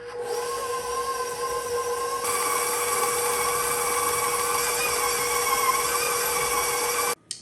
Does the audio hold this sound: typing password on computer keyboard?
no